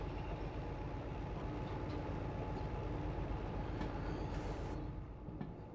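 A freight train hauling over 500 tonnes of gasoline pulls away in the Derail Valley VR game, with a steady low rumble and engine drone running continuously, easing off slightly near the end.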